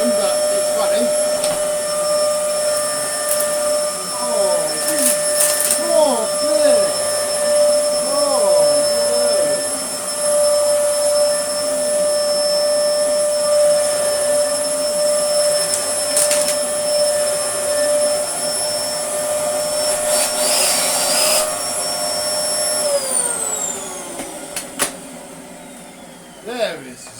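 An old Dyson DC04 vacuum cleaner runs with no suction, giving a loud, steady motor whine with a high tonal hum that holds for about twenty seconds and then winds down near the end, with a voice talking over it.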